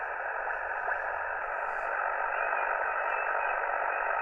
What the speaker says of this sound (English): I'm just picking up some interference there.